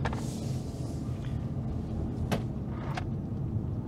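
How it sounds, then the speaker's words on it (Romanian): Loose items knock and rattle in the door pockets of a Toyota C-HR as it drives uphill, with a few sharp clicks standing out over a steady low road and cabin rumble. "Acum se aud lucrurile prin buzunare"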